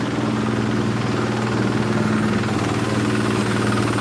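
A tractor-like vehicle offering rides through floodwater in Nabua, Camarines Sur, idles with a steady low, rumbling engine throb that stays loud and close throughout, with no talking.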